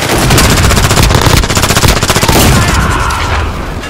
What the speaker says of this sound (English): Friendly sentry gun online.